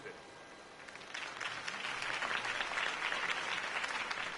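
Crowd applause swells in a Batman: The Telltale Series video game scene after Harvey Dent's campaign speech, starting modestly and building into steady broadband clapping that holds at a fairly even level.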